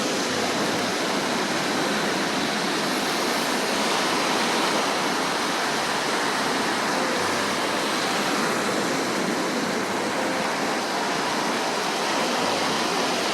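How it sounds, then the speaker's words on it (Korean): Heavy surf rolls in steadily at Gwangalli beach in the rain, a broad, continuous wash of crashing water that stays loud and unbroken from start to finish with no voices. "이 파도 밀려오는 이 수준이 통영하고 좀 다르네요"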